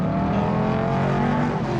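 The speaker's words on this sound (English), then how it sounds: "You can hear the stock car V8 engine screaming out at you." Stock car V8 engines race around an egg-shaped track, a loud, dense, sustained roar of several cars at speed without a break.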